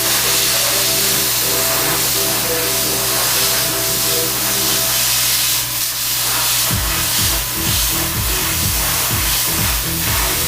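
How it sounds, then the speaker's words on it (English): A loud, steady Harbor Freight Titanium 45 plasma cutter torch hiss runs throughout over a droning mechanical hum. Near the end, rhythmic low pulses join in. "We're going to light this torch up."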